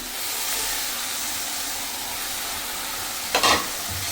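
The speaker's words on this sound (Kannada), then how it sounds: "ಹಾಕ್ಕೊಂಡು ಚೆನ್ನಾಗಿ ಮಿಕ್ಸ್ ಮಾಡ್ಕೊಳ್ಳೋಣ" Cooked beans being stirred into methi sabji in a pan, a steady sizzling hiss throughout with a brief louder scrape of the spoon near the end, close by and without talk.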